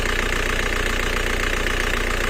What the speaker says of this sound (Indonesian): Mesin kembali stasioner